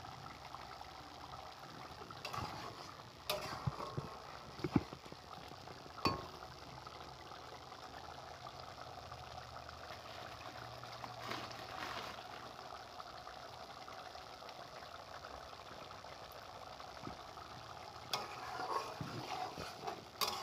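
Chicken curry simmering in water, a low bubbling liquid texture under a faint steady background, with a few clinks and spoon taps scattered throughout; no speech.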